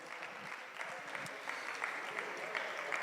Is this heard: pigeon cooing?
no